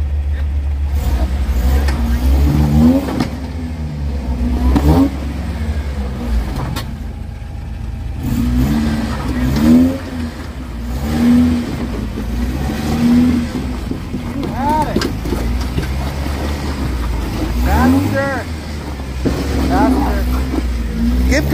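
Off-road vehicle climbing at an off-road park, its engine droning and revving in surges while a tire spins, with people talking loudly over the motor throughout.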